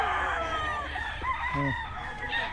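Several chickens cluck and a rooster lets out a short crow nearby, their calls layered and fairly loud in an outdoor yard.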